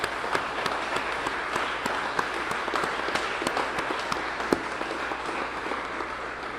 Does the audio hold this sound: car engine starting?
no